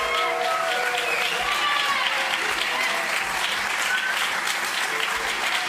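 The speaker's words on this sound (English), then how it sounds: "And another round of applause for our poets for today" Steady, full applause from an audience for poets at a poetry reading event, continuous clapping held at an even level, with faint crowd voices mixed in beneath it.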